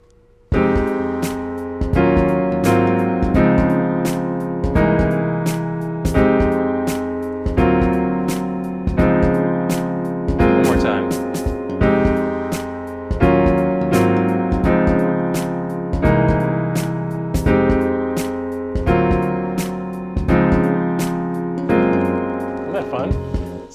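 Jazz-style piano voicings, including major seventh chords, played over a backing track in a pentatonic improvisation, with steady rhythmic chord hits and bass layered throughout, loud and continuous, with no talking.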